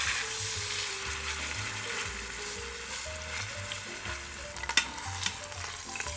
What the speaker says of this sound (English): we're gonna go into the pot with our roast and get a really good sear